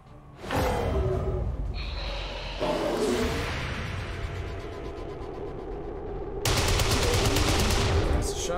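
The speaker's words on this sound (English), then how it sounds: "That's a shot." Loud gunshots from the video game XCOM 2 crack out in a few bursts, separated by sustained whooshing and rumbling game ambience.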